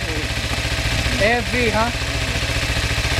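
A motorcycle engine idling, either a Yamaha FZ600 or a Ninja, with a steady, loud, close throb throughout while someone speaks briefly over it.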